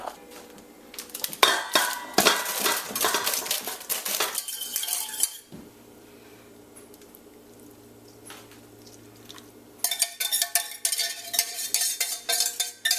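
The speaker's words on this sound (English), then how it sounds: "it's just a matter of mixing it up, making sure every piece of cauliflower is fully mixed with that hot sauce" Cauliflower pieces are tossed with hot sauce in a big bowl, giving loud bursts of clattering and clinking from the bowl and utensils, then a quieter pause before the rattling tossing starts again.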